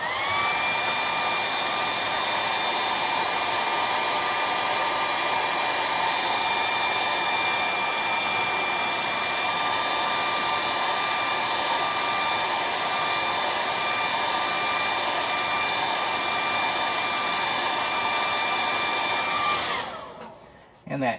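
A heat blower runs continuously at a steady high whine to warm and reactivate the glue on a costume prop, loud and close for about twenty seconds before cutting off abruptly near the end, with no talk.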